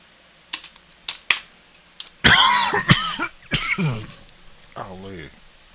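A person coughs during a session of the online survival game Scum. First come several scattered short clicks, then a run of harsh, raspy coughing bursts, followed by a brief throaty sound, all close and fairly loud.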